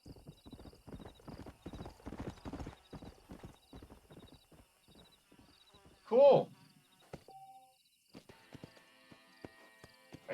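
Hoofbeats of a stallion in Red Dead Redemption clip-clop steadily for several seconds under a voice, then a loud, close horse whinny bursts out alone before quieter trailing sounds.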